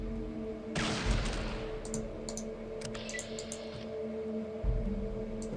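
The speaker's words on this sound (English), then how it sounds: "Try to finish her with the sniper." A single sharp sniper rifle shot cracks in Fallout 1, followed by brief clicking and rattling, amid a low steady hum.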